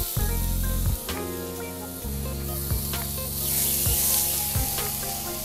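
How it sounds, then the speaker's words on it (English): Shrimp sizzling in a pan of bacon grease and olive oil for shrimp carbonara: a steady, close frying hiss that swells midway, heard under a continuous tonal hum with no talking. "I'm just gonna put the shrimp down just like this"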